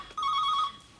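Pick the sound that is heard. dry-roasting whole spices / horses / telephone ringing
telephone ringing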